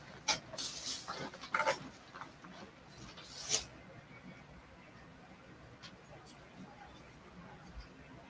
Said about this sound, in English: Let me let my dog in, man.